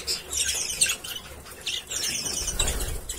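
Ring-necked birds chirp and squawk in short high bursts amid soft wing flutters and shuffling, close by and fairly busy, as in an aviary.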